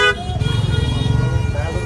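A car horn blares repeatedly in heavy traffic near Delhi's Jama Masjid, with a loud, close, sustained honk that pulses rhythmically against a steady street-noise background.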